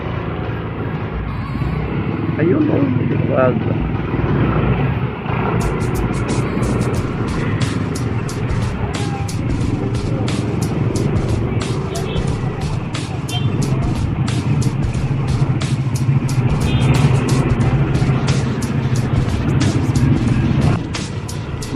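Cars and heavier vehicles rumble and pass continuously on a rough, bumpy road near Boso-Boso, Antipolo, with occasional sharp rattles and clicks, loud and close, as people briefly speak over it.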